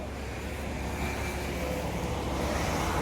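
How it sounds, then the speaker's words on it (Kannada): Water rushes hard along a channel in rainy Mysore weather, a loud, steady, unbroken roar with no pauses. "ಎಷ್ಟು ಜೋರಾಗಿ ಹರಿತಾ ಇದೆ ನೀರು"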